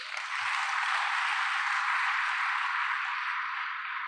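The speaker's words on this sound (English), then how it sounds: "I want us to give them a round of applause." An audience at a conference in Kigali, Rwanda gives a round of applause: a dense, steady wash of many hands clapping together that holds evenly for about four seconds without any speech.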